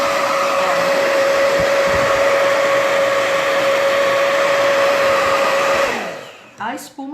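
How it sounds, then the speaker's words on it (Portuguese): A hair dryer runs steadily and loudly close by, drying foam on a vintage scrapbook-decor keychain craft, with a constant whine; it switches off near the end, leaving brief faint handling sounds. "eu vou ligar o secador, eu não vou conseguir falar"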